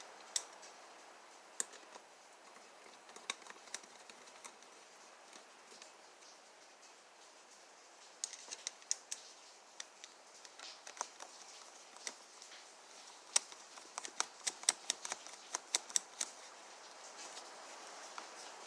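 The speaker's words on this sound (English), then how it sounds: "It actually started raining outside." Rain outside in Texas, heard as sparse, faint ticking drops that tap irregularly over a quiet background, growing a little denser toward the end.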